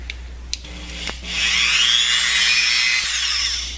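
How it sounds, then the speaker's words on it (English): A Dremel rotary tool grinding the contacts off a DS cartridge slot on a circuit board, a close high whine that rises after a few faint clicks and holds steadily for about two seconds before easing. "So you can also just Dremel that right off."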